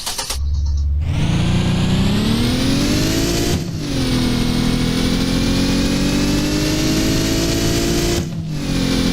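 A car engine in the video game Bus Simulator Indonesia cranks briefly and catches, then revs loud and steady in a sustained high drone, dipping twice between pushes of the throttle.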